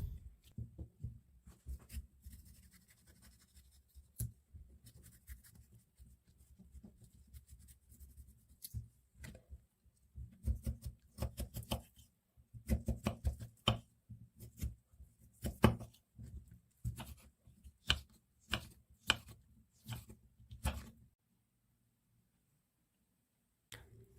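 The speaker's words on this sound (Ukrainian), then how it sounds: "Свіжий огірок нарізаю кубиками." A knife chops fresh cucumber into cubes quickly on a cutting board, a run of sharp, fairly quiet taps that speeds up, then stops, leaving silence.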